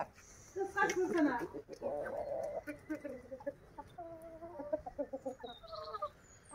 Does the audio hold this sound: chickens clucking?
yes